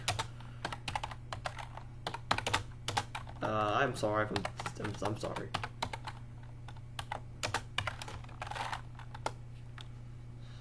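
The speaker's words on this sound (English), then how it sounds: "I'm typing something real quick." Rapid, uneven clatter of typing on a computer keyboard, close up, with a short stretch of a person speaking partway through.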